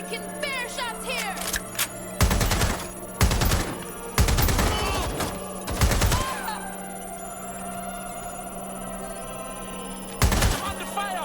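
Gunfire in Watch Dogs Legion breaks out in several loud automatic bursts spaced a second or two apart, with shouting voices and game noise filling the gaps between volleys.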